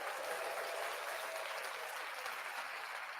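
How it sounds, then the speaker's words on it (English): Steady applause from an audience, faint and distant, an even continuous clatter of many hands with no voices standing out. "Give her a big round of applause."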